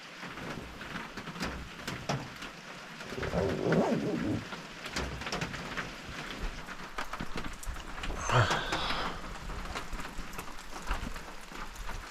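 Steady rain on a winter Appalachian Trail hike at Roan Mountain patters continuously at a moderate level, with a few louder gusts or splashes rising briefly above the even wash.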